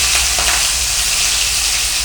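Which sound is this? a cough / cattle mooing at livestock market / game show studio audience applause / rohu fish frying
rohu fish frying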